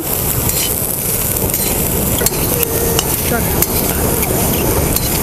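Green tomatoes being stirred and roasted in a pan for a spicy chutney, loud continuous sizzling mixed with rough scraping and clattering from a spoon working against the pan, all close up.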